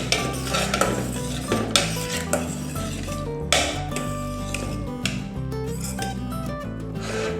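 Spoon scraping and stirring tomato paste and oregano in a pan over a faint sizzle, with repeated metallic scrapes and clinks close by and no talking.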